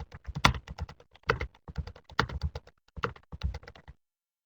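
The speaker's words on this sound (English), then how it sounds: "just type something." Rapid keystrokes on a computer keyboard while typing in Word 2010, coming in quick bursts of clicks with short pauses between runs, close and fairly clear with no talking.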